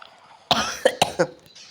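Four short, sharp coughs in quick succession, close and fairly loud, after a brief quiet moment.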